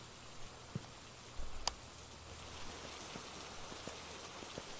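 Rain falls in a ghost-hunting video game as a faint, steady hiss with a few scattered ticks and light taps over the quiet background.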